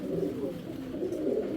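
Pigeons cooing in a loft where a first-time laying hen and her mate are kept, a steady low, rounded coo rolling on continuously and fairly close, several birds overlapping with no pauses.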